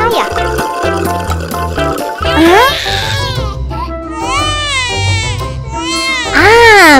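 A toy baby doll gives a wailing, rising-and-falling cry in bursts that grow louder toward the end, over steady background music.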